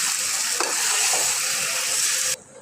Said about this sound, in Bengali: এখন ভালো করে মিক্স করে নিব।